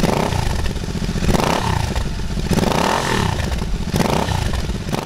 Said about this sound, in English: A more free-flowing exhaust, for example, can do wonders for the sound of this bike.